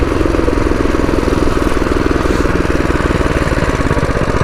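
A Predator 212 mini bike engine idles just after an electric start, a loud, steady rapid chugging pulse from the small single-cylinder motor, close by and continuous.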